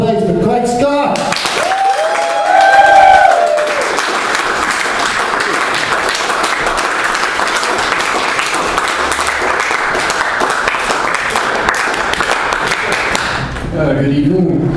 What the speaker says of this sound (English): Put your hands together, please, for Craig Scott!